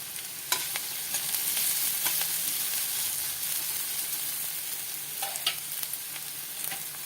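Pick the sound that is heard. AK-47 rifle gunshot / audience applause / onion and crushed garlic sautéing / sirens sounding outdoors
onion and crushed garlic sautéing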